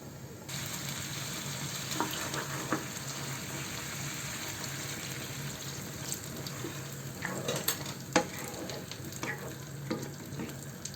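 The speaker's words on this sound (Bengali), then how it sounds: "গরম মশলা ভালোভাবে নাড়া দিয়ে এখন ঢেকে রান্না করবো" Meat curry cooking with garam masala in a pan, with a continuous low sizzle and bubbling and a few scattered stirring clinks and scrapes, fairly quiet, with no talk.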